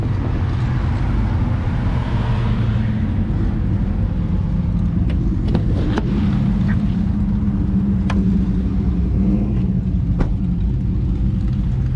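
A pickup truck engine idles nearby, a steady loud low rumble and drone that holds throughout with a few faint clicks over it; no one speaks.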